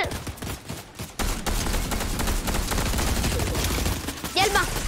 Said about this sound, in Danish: Der er nogen, der skyder på mig.